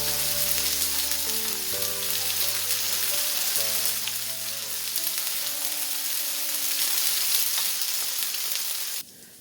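Garlic-ginger paste and chopped green onion sizzle steadily in a pan while being stirred for fried momos, a loud, continuous frying hiss with light scraping that cuts off abruptly near the end, no talking.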